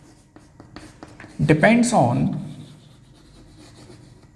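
Chalk or marker scratches on a board during a chemistry lesson on reaction kinetics, a short run of writing strokes close by, mixed in with a teacher speaking.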